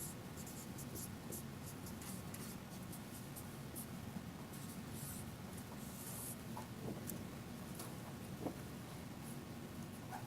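A marker or chalk scratches across a classroom board while a geometry proof is written out, a long run of short, dry, rhythmic strokes close by with no talking.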